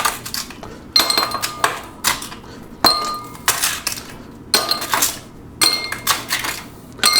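Ice cubes clink and rattle into a glass near the microphone during preparation of a Greek frappé coffee, in repeated sharp bursts about every second with no voices.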